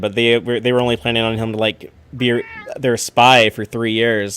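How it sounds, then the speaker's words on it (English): A pet cat meows clearly several times in a home, its calls rising between and over a person talking nearby. "That's the cat."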